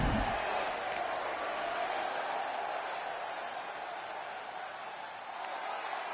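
Wrestling arena crowd in the WWE 2K25 video game, a steady broad roar of cheering that holds at an even level throughout, with a brief low thump at the very start.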